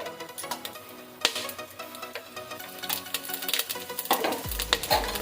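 Whole spices, bay leaf, cinnamon, star anise, black pepper and cloves, fry in hot oil for vegetable pulao, giving a close, busy sizzle with crackles and sharp clinks of stirring, and no talk.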